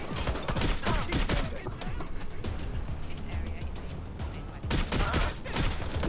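Sustained rapid gunfire from Watch Dogs Legion, dense overlapping bursts filling the whole stretch with a brief lull near the end before shooting resumes loudly.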